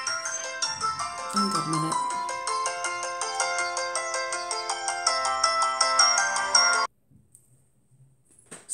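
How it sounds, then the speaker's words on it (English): Telephone ringtone plays a repeating bright melodic pattern, loud and close, for about seven seconds before stopping abruptly; a person speaks briefly over the start. "Someone ringing about life insurance policy."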